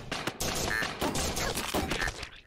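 Gunfire in the aquarium shooter game AK-xolotl: dense, rapid bursts of shots crowd the whole clip in loud overlapping rattles.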